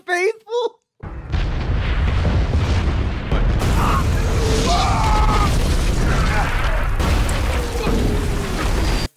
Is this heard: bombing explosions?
yes